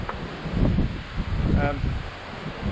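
Wind blows outdoors in gusty, buffeting waves across a microphone, rising and falling over a few seconds with faint rustling and no clear voices.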